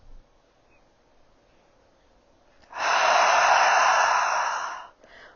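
A single long, forceful breath during a gentle Kripalu yoga pose, loud and close, rising after a quiet pause, holding steady for about two seconds, then fading, with a faint breath at the end.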